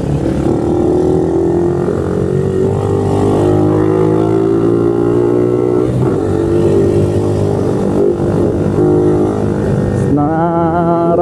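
Motorcycle engines hum and rev in dense afternoon traffic near a flyover, a loud steady drone from nearby with a brief tonal whine near the end.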